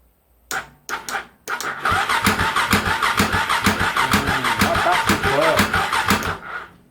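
A stored motorcycle on a low battery cranking: a few short starter bursts, then a longer sustained run of rapid, rhythmic, laboured cranking pulses close up that never catches.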